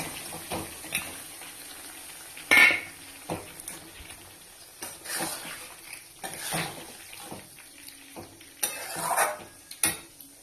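Prawns stirred into a curry pan as it fries, with a low steady sizzle under repeated scraping and clattering stir strokes that come in irregular bursts close by.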